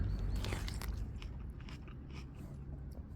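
Crisp, crunchy bites into a firm, juicy late-season diploid plum up close, a few sharp crunches followed by quiet chewing.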